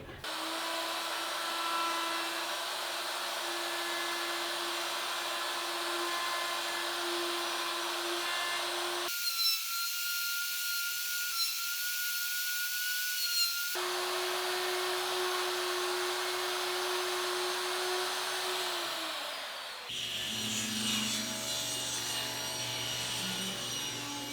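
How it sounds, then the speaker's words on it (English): A router with a normal faceplate, no circle jig, cuts out the centre of wooden drink coasters in loud, steady whining passes, briefly changing pitch in the middle, before it winds down into quieter workshop clatter at the end. "I went ahead and removed my circle jig and reattached my normal router faceplate"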